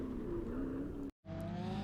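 A drift car on a mud-covered track at a drift event, its engine droning steadily and close with a rising pitch, cut off by a brief gap before it roars on again.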